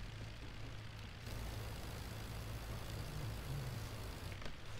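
An Albatros D.II biplane engine drones steadily in flight in the World War One flight game Rise of Flight, a faint, continuous low propeller hum with no talk over it.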